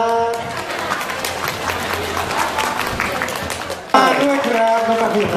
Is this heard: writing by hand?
no